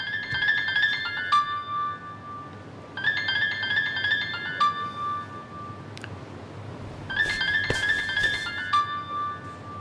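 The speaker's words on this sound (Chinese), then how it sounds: "你电话响了。" A phone rings in three repeated electronic melodic bursts with pauses between them, fairly clear in a quiet indoor room, with light clinks and no talking.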